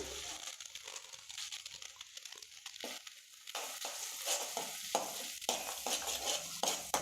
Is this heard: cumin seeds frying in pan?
yes